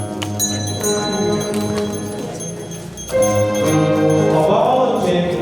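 Bells carried by a bell bearer ring out clearly at a church wedding, bright repeated chimes over a steady background hum and room noise, loud and near throughout.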